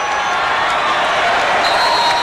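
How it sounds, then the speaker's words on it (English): A packed basketball arena crowd at an Illinois versus Iowa college game produces a steady, dense roar, with the sound of bouncing balls mixed into the constant noise. "Great crowd tonight. Great crowd."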